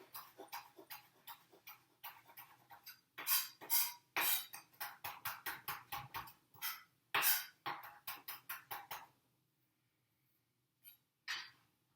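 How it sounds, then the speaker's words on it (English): A knife chops fresh dill on a cutting board for homemade sauerkraut: rapid close, crisp chops come in quick bursts separated by short pauses, then stop, with two last isolated chops. "I'm going to go ahead and chop it up"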